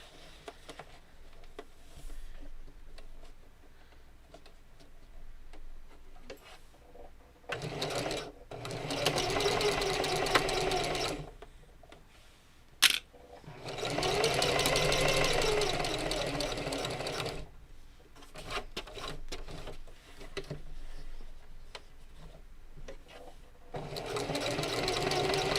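Fabric being stitched with matching thread on a sewing machine, which whirs in steady rapid bursts that start and stop several times, with a person talking quietly between runs.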